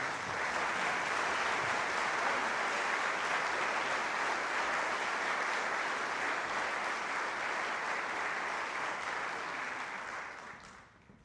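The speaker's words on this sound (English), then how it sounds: "Another round of applause for our seniors." A high school concert audience gives a sustained round of applause for graduating seniors at a senior band and orchestra concert, dense steady clapping from a full hall lasting about ten seconds before tapering off.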